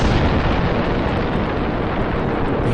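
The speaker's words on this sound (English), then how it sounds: "the explosion is massive" A massive diesel tank explosion in an audio drama gives a loud, dense, roaring blast that fills the whole clip as a continuous rumble with no pause or fade.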